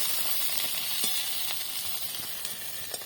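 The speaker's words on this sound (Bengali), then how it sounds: "আর এভাবেই আমরা সবগুলোকে ভেজে নেব।" Egg paturi wrapped in sweet pumpkin leaves fries in hot oil, giving a continuous close sizzle with a few brief pops and crackles and no voices.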